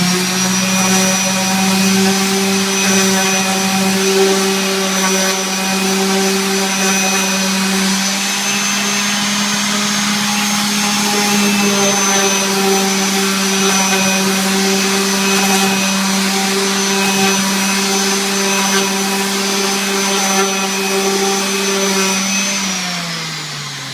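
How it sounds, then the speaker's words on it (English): A power sander is rocked along the edge of a wooden cutting board. It gives a loud, steady, droning whine that holds unbroken close up for the whole stretch, with no talking over it. "You'll notice as I'm doing this, I'm rocking the sander."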